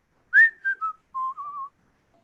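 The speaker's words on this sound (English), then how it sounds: "I'll come back and whistle. You'll hear it." A person whistles a short signal call outdoors, a sharp rising note followed by a few brief tones and a longer wavering note, clear and alone in near silence.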